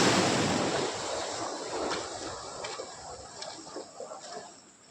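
Ocean waves wash onto a private beach in Maharashtra, a broad steady hiss of surf mixed with wind noise, fading slightly over several seconds with no voices.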